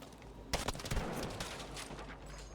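Gunfire from the video game Battlefield V, a sudden loud burst of shots followed by a dense stretch of rapid battlefield firing and explosions with no voices.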